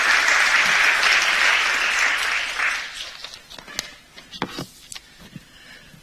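Audience at an art festival opening ceremony applauding a foundation director, full, sustained clapping for about three seconds that thins into scattered individual claps and light shuffling.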